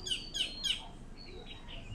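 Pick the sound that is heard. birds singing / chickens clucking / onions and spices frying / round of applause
birds singing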